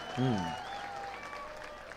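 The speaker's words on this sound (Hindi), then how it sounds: "एक बार ताली बजाइए अपने लिए" Audience applause at a Hindi comedy poetry show (hasya kavi sammelan), a steady patter of clapping across the crowd with a voice speaking briefly at the start.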